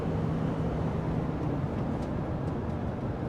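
A Ram 1500 EcoDiesel pickup truck pulls hard at full throttle, a steady droning engine roar with a faint rising tone, loud and continuous, no voices over it.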